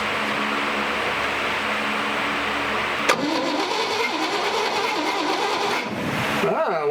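A 1958 Chevy Apache pickup's V8 engine cranks without spark after long storage, giving a steady, loud starter churn that continues without catching, and a voice speaks over it.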